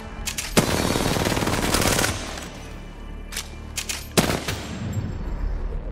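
Loud gunfire in the video game Apex Legends: a sustained burst of rapid automatic fire, then a pause, then more short, sharp bursts at close range.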